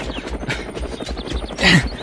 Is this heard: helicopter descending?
yes